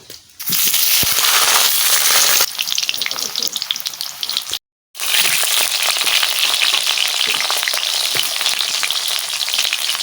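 Potatoes fry in very hot oil, giving a loud, dense, continuous crackling sizzle up close. It cuts out briefly partway through, then resumes just as strongly.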